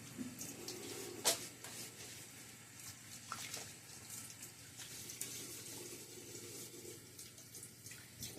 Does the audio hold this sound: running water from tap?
yes